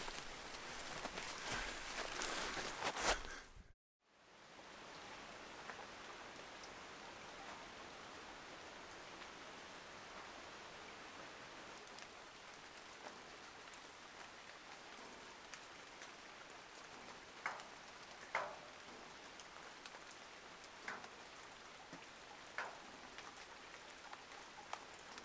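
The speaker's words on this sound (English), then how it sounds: "I did not get very far before the rain set in." Steady outdoor rain hisses quietly and evenly, with scattered louder drops pattering close by. A brief full dropout occurs near the start, then the soft wash continues alone.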